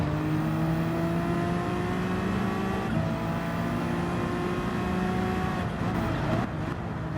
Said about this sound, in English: On top of that, Santos and the Lexus ended up catching up to me.